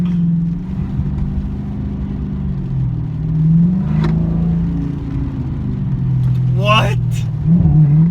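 A Dodge Charger fitted with a Pedal Commander throttle controller, a loud, steady low engine drone with rising and falling revs, someone talking over it and a short whistling squeal near the end.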